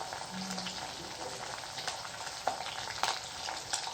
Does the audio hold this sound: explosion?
no